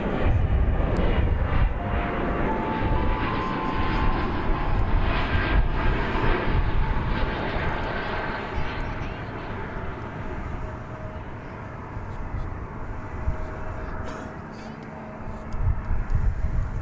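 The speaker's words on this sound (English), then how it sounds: "This will be an Embraer 170 from our viewpoint here at DFW Airport Founders Plaza." An Embraer 170 jet arrives at DFW Airport, a loud, steady engine roar and rushing whine holding near and constant, then easing slightly, with a voice talking over it.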